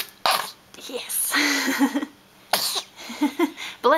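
A small, sharp sneeze bursts out amid a baby's soft fussing sounds and breathy noises, followed by an adult speaking gently.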